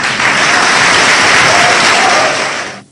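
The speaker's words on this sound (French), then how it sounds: "vous qui venez d'applaudir, vous aussi, je vous salue" An audience at a French-language press conference breaks into brief, loud, dense clapping that holds steady for about two and a half seconds, then cuts off abruptly.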